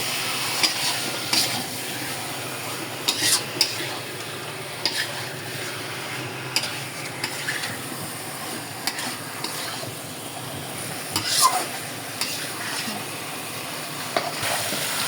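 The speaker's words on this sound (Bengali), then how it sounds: "আমার মাংসটা এই যে কষানো হচ্ছে মশলার সাথে।" Chicken pieces and spices being stir-fried together in a pan, giving a continuous sizzle with repeated scraping and clattering from stirring at an uneven rhythm; no voices.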